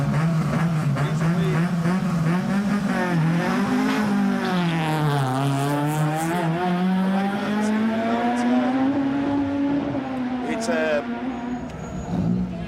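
A Ford Fiesta Rally 3 rally car entering a stage on the West Cork Rally, its engine note rising and falling loudly through gear changes, revving steadily close by under continuous commentary.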